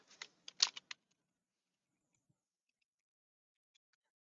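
A short burst of quiet keyboard typing, several quick uneven keystrokes, then near silence with a couple of faint clicks.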